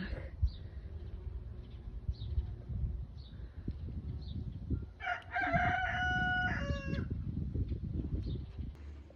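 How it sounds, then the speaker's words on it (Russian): Hens cluck softly in the background, then a rooster lets out a loud, clear crow partway through, with shuffling noise throughout. "Андрюша, она хочет на куриц смотреть."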